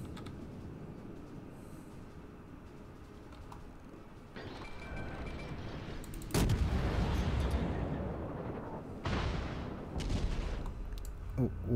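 Heavy HE shell salvos from warship guns in World of Warships, with booming bursts at intervals over a constant rumbling engine and sea background.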